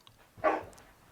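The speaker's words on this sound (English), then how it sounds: "Sorry for the dog barking" A single short dog bark rings out once indoors, moderately close, amid otherwise quiet room tone.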